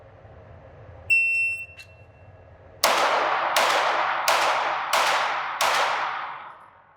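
A shot timer beeps once, then five Ruger RXM pistol shots ring out, fired strong hand only on a shooting stage; the sharp, loud, close reports come at a steady rhythm about a second apart, each with a ringing decay.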